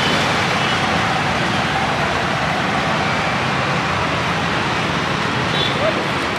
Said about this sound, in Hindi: तो यहाँ गाड़ियाँ वाड़ियाँ चल रही है